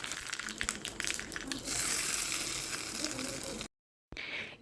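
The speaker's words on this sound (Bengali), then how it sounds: "তেল গরম করে নিয়ে দুটো শুকনো লঙ্কা ফোড়নে দিচ্ছি এক চামচ সর্ষে আর কয়েকটা কারি পাতা" Dried red chillies, mustard seeds and curry leaves hitting hot oil for a tempering, a steady loud sizzle and crackle that cuts off abruptly before a brief return.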